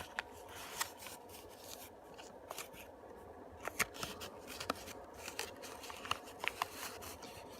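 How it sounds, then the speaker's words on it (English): Paper crinkles and creases during a reverse fold through the layers of a complex origami model, with faint, irregular soft rustles and sharper little crackles spread across a quiet background. "we're going to make a reverse fold through the layers"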